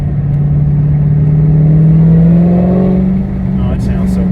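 A Dodge Hellcat engine with an active exhaust revs with a deep, steady growl that climbs slightly in pitch, loud and close, in cold weather, with brief voices near the end.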